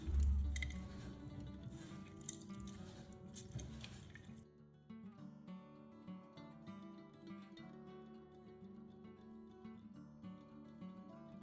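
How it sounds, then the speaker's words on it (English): Halved lemons are squeezed by hand into a cup, giving soft wet squishing and pattering drips close up, with light clinks, first busier and then quieter. "I cut the lemon in half, squeeze the juice into a cup, and strain out the seeds"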